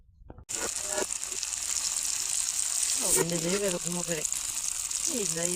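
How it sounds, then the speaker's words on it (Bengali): Onions sizzle and fry steadily in hot oil in a pan, a loud continuous crackle running throughout, with a person talking over it. "এবার পেঁয়াজটা ভেজে নিব"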